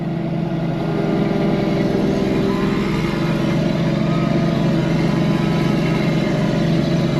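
A truck engine on a feed wagon runs at a steady, loud drone, holding a constant rev throughout with no pauses.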